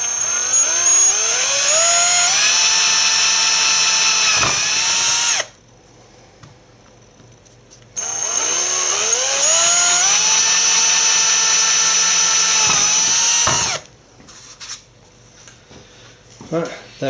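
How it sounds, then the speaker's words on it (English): A power drill bores pilot holes into a Dell Inspiron One 2320 all-in-one computer case, running in two long, loud whining bursts that climb in pitch as the motor spins up, separated by a short pause. "Right, there are pilot holes."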